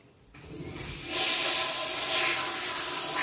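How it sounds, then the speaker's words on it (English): A toilet is flushed during a home inspection walkthrough, a close, hissing rush of water that swells after a second and holds at a strong, steady level, with no talk over it. "And then we're going to flush both of the toilets."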